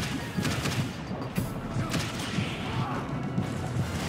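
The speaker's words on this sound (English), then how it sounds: "No, those are laser bombs." Laser bombs exploding in Super Smash Bros Wii U, a dense rumbling barrage of repeated blasts and crashes packed close together, loud and continuous throughout.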